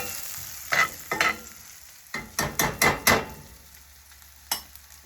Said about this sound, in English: we're going to let that saute for a few minutes so it gets nice and soft and translucent